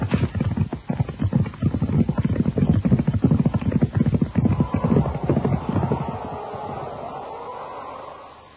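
Horses gallop at speed, hooves clip-clopping in a dense, rapid rhythm that is loud and close, then fade away toward the end with the pounding thinning out.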